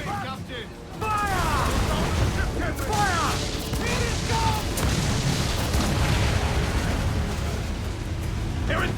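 Cannon fire rumbles through a naval battle video game, heavy booms layered over a dense, continuous wash of battle noise, with brief whistling tones cutting through and the din staying loud throughout.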